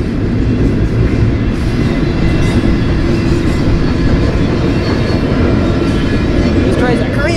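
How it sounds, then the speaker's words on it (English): A BNSF freight train rolls steadily past on the Southern Transcon at Clovis, New Mexico, with loud, continuous low rumble and rail noise filling the whole stretch, close and unbroken. "This train's like, hurry up, man. I want to pick up speed."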